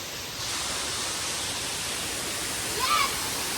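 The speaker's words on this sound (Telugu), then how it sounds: "This is Rampachodavaram water falls." The Rampachodavaram waterfalls produce a steady broadband rush of falling water, constant and fairly even, with a brief swell near the end.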